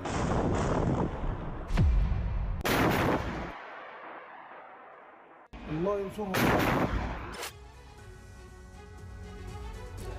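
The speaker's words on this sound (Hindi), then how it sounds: "हमास लड़ाकों ने विस्फोटक के जरिए टैंक को उड़ा दिया।" Explosive blasts and gunfire from an attack on a Merkava tank: several loud, sharp booming impacts and bursts of shots, with a falling whistle-like sweep before one blast and lingering rumble between the strikes.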